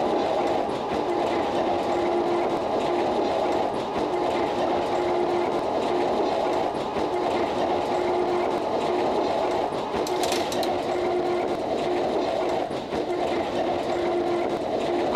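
A Konstal tram in Brno runs fast along a high-speed track in OMSI 2, a continuous loud rolling rumble with steady motor whine and rhythmic clatter over worn rails, heard alone without speech.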